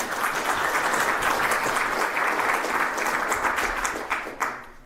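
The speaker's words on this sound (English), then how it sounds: "Welcome, big applause." Applause from a conference audience at a talk on Bayesian statistics, a dense steady wash of clapping that holds for several seconds, then thins out and fades near the end.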